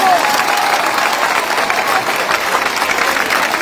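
A large crowd in Udine applauds steadily, with scattered cheers rising through a dense, continuous wash of clapping that stays loud and close throughout.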